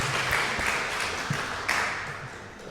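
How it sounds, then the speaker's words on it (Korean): A church congregation claps in scattered applause during a worship service, moderately loud and fading gradually over a few seconds. "하나님께 영광의 박수를 올려드립니다"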